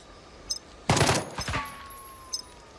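A machine gun firing a short burst in the Jagged Alliance 3 video game: a rapid cluster of sharp, loud shots lasting under a second, framed by a few faint clicks before and after.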